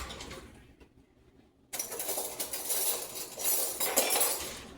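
Metal clinks and scrapes from a spoon against a buttered muffin tin, starting after a quiet pause and continuing as a busy, close clatter of several taps and scrapes.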